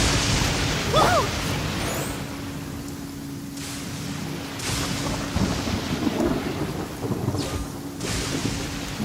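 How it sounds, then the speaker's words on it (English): Lightning strikes and rolling thunder from the Genshin Impact video game, with loud booming cracks and rumbles under a steady rain-like hiss. "Divine bolts can strike even in the absence of rain."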